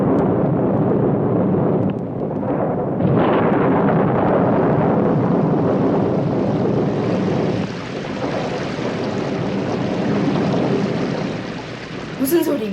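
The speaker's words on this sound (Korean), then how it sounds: "천둥과 비 소리였어요." Deep rumbling thunder rolls over a steady wash of heavy rain, loud and continuous throughout, with a brief crackle near the end.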